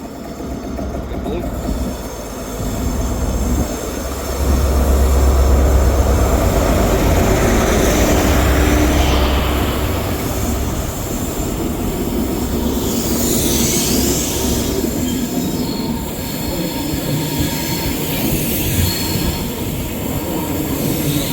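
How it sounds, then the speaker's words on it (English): A ScotRail passenger service from Aberdeen to Glasgow Queen Street pulls out of Perth station with loud, sustained wheel squeal over the rumble of rolling stock, close by and continuous. "Departing out now is the 12:15 ScotRail service from Aberdeen to Glasgow Queen"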